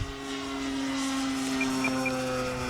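Yak-11 radio-controlled model plane flying overhead just after takeoff with its gear retracting, a steady droning engine tone holding a clear pitch throughout at moderate distance, with faint higher whines near the end.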